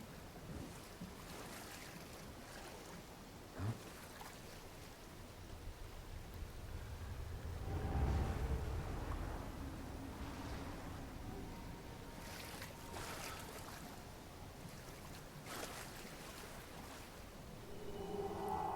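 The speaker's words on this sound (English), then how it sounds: "And there's a boat, and here's our little boat." Boat crossing open water in a Nioh game cutscene: steady wash of waves and wind noise throughout, swelling louder around the middle with a low rumble, then settling back with some faint clatter near the end.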